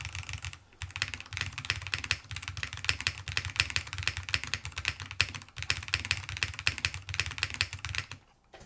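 Rapid, steady typing on a Lofree Hyzen hybrid mechanical keyboard with a hybrid PCB running both MX and magnetic switches: a dense, continuous clatter of close keystrokes, briefly pausing near the start and middle, with no talking.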